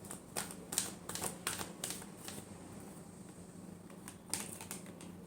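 Tarot cards are shuffled in a quick series of crisp riffles and flutters that come in bursts, close and fairly quiet, with no talking over them.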